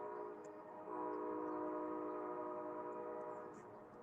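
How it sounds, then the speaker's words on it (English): A train horn sounds steadily for several seconds, loud and sustained with stacked harmonic tones, over the rumble of a passing train near a fishing spot. "Hope that train ain't too loud for you."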